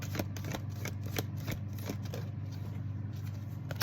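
Oversized tarot cards being shuffled by hand, a steady run of papery riffles and soft slaps with a few sharper snaps, close and continuous over a low background hum.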